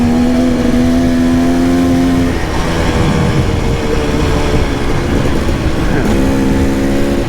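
KTM 300 two-stroke dirt bike engine revving loud and close, a steady high whine that drops and climbs again between blips of the throttle, with no talk.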